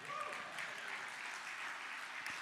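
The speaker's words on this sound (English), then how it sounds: "Come on, give the Lord a hand clap." A church congregation claps together in steady, sustained applause during a sermon, heard at a moderate distance as a dense, continuous patter.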